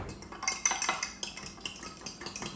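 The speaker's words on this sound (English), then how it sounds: "I'm going to crack 2 eggs into a cup and give those a good mix" Two cracked eggs whisked in a cup with a utensil, giving a quick run of light clinks and taps against the sides, close and moderately quiet, with no talking.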